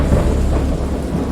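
Deep rolling thunder rumbles steadily from a great storm at sea, a dense low roar with faint rain-like hiss, sustained without a break and with no voices.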